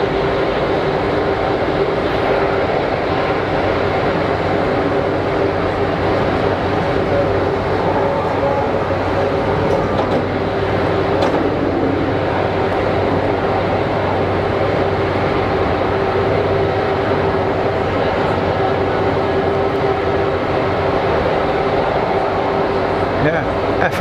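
An Airbus A330 with a noisy auxiliary power unit taxis at Geneva Airport on a dead-calm day, giving a loud, unbroken drone with a steady tonal whine that holds through the whole stretch.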